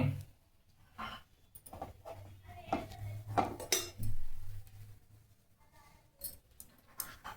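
Roasted curry leaves are scraped from a pan onto a plate, with a series of faint, scattered metallic clinks and scrapes of utensil on cookware in a quiet kitchen.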